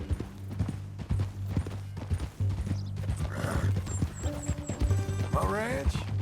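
Rhythmic clip-clop of horse hooves at a walking pace in the video game Red Dead Redemption 2, with background music and a horse's whinny near the end.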